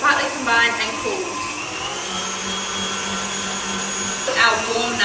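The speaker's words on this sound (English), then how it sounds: "we are going to put it up to a higher speed, and we're going to whisk until slightly combined and cooled" An electric mixer whisks nougat mixture at high speed, giving a steady whirring drone through the whole stretch, with a brief spoken voice near the start and again near the end.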